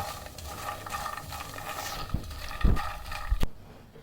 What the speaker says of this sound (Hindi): अब इसमें ये सारे फूल मखाने डाल के इनको भी हल्का सा रोस्ट कर लेंगे